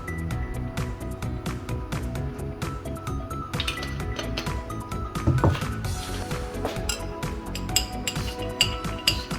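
A spoon clinks and swirls in a glass of celery juice mixed with apple cider vinegar, giving light repeated taps and wet sloshing at close range, with no talking.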